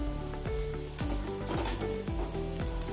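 Pakkavada (Pune bajji) fritters fry in hot oil, giving a steady, close crackling sizzle with the occasional clink and scrape of stirring, over a faint tonal background.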